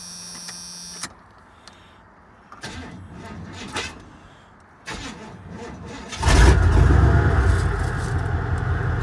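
An engine cranks with uneven whirring bursts and clicks, stalling a few times before catching and settling into a loud rough idle.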